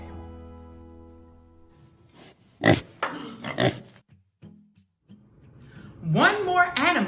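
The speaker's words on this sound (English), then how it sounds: "this large, smelly pig" A large pig grunts in short bursts that rise into louder, drawn-out oinks near the end, with a person talking over part of it.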